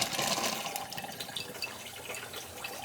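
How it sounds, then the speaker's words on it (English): A 1950s La Cimbali Gran Luce Automatica hydraulic espresso machine flushes water through its group head in a steady, close, hissing splash of running water lasting a few seconds. "if you want to flush your group without wasting as much water, you can just flick it a little earlier"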